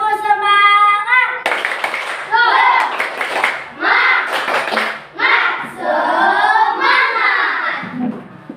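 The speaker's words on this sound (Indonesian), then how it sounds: "Tepuk semangat." Children in an Indonesian classroom perform a rhythmic spirit clap, sharp patterned claps alternating with loud chanted group voices, close and energetic throughout.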